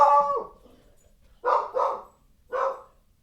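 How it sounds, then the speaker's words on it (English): A dog barks three times indoors after a stretch of quiet, with one short whine at the start; each bark is loud and close, the second two coming in quick succession. "don't know what my dog's barking at."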